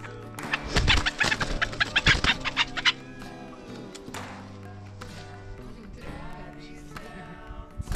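Clucking from a small chicken or similar bird close by, several bursts in the first three seconds, followed by quieter, softer calls.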